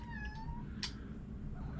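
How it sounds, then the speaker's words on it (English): A house cat meows twice, close and fairly quiet, a short rising-falling call followed by a brief sharp sound, over a low steady background hum with no talking. "my cat's in here"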